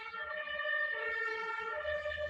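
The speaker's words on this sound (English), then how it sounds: "so it's a police car passing here" A police car siren passes at a moderate distance, its layered wailing tones holding steadily over low traffic rumble.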